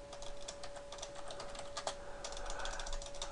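Rapid, close clicking of a computer keyboard while code is typed for a C# programming lesson, an even stream of keystrokes with no voice.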